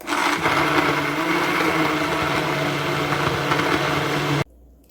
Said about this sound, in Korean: 부드럽게 갈아주세요